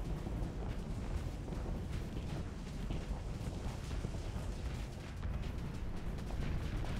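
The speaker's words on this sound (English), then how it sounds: "Big old explosion again." A dense, continuous rumble of explosions and crackling bursts fills a space battle in the game Starsector, steady and roaring throughout with no talk.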